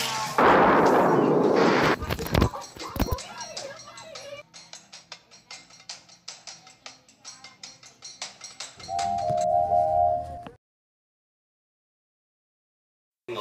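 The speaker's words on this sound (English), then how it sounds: "It's gonna blow up!" A bomb blows up in a loud burst of blast noise, followed by a rattling run of sharp cracks that fades. A steady tone sounds near the end before sudden silence.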